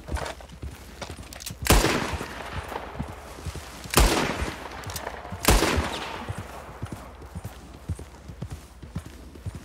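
Three sharp gunshots from a pistol in the video game Red Dead Redemption 2, spaced about two seconds apart, ring out over steady horse hoofbeats clip-clopping throughout.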